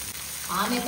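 Masala sizzles and fries in hot oil in a pan for a fish curry, a close steady crackle that brightens briefly near the end.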